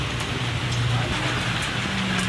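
Rain falling steadily, a dense, fairly loud hiss with scattered drop patter throughout, with faint low tones underneath.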